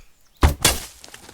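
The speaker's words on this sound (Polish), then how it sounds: "Ale to był dobry strzał." A hunting rifle fires in the hunting game theHunter: Call of the Wild: one sudden loud blast breaks near silence, a second sharp crack follows a quarter second later, then a rolling tail fades away, with no talking.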